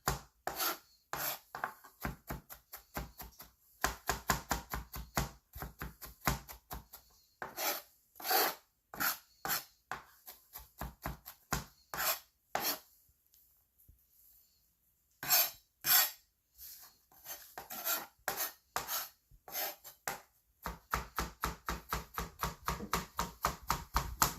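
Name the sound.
knife mincing food while cooking chicken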